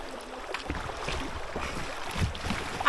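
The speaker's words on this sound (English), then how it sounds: "We're doing rapids!" A kayak moves through small rapids on Florida's Chipola River. Steady, close rushing water and wind buffeting the microphone form a dense, continuous wash with no voices.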